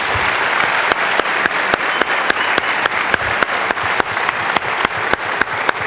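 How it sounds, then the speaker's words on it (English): An audience at a Reagan Forum event with Condoleezza Rice gives sustained, dense applause that stays steady throughout. Regular sharp clicks punctuate the clapping. "one round of applause for a wonderful Secretary of State"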